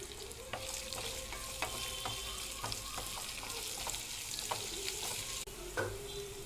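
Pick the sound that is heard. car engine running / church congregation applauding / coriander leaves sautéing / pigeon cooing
coriander leaves sautéing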